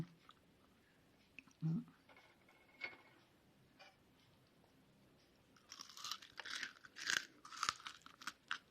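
Crispy fried sun-dried salted fish is bitten and chewed close up, heard as a few quiet crunches early on, then a louder run of irregular crackling crunches toward the end.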